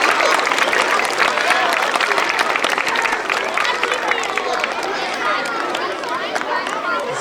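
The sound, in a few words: applause for staff members of the year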